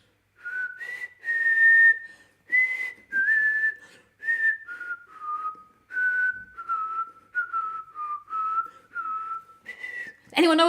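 A person whistles a tune alone, a steady sequence of clear, sustained notes rising and falling in pitch with short gaps between them, close and fairly loud, ending in a brief burst of noise.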